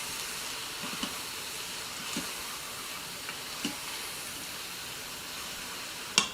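Crushed and sliced garlic sizzles in a pan with mushrooms and onions, a steady broad hiss with a few faint clinks and taps from stirring.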